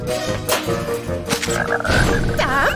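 Cartoon frog croaking in repeated ribbits over busy animated-show music and effects, loud and close, with a rising squeaky tone near the end.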